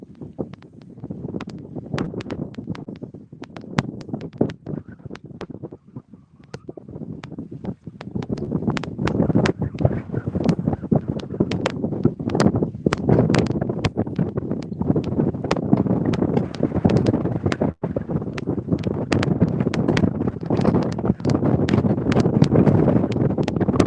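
Winter wind on the Mississippi River roars against the microphone, a constant gusty rush with crackling buffets that builds louder after the first few seconds, no talking.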